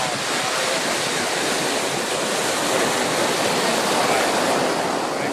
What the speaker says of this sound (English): I've been public on my camera because the wind is so rapid.